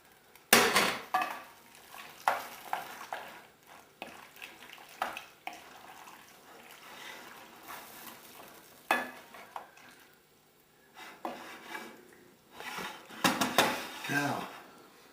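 Creamed onions simmer in a pan while a utensil scrapes and stirs, producing intermittent clatters and soft bubbling, with a voice talking between the stirring.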